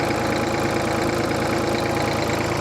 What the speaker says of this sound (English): It's got the old Wisconsin 2-cylinder engine on it.